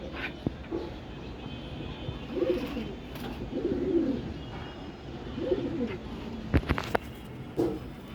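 Domestic pigeons kept at a home coo in soft, repeated low burbling phrases at close range, with a few sharp clicks and rustles between them and a quiet background.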